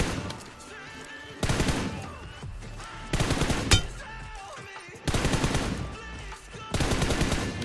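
Automatic gunfire in a mobile shooter game, with four loud sustained bursts of rapid shots separated by short pauses, set over steady game background sound.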